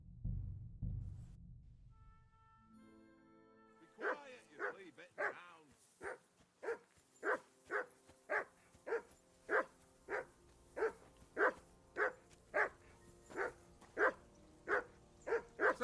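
Dog in the medieval video game Kingdom Come: Deliverance II barking repeatedly in a steady rhythm, about twenty sharp, fairly close barks, after a brief low rumble at the start.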